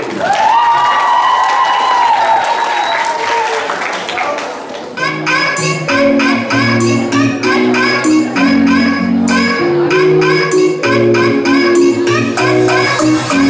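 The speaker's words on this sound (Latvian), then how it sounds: "Aplausi!" Applause follows a team captain's introduction. After a sustained tone, rhythmic clapping and cheering rise over loud music, with children's voices in the crowd.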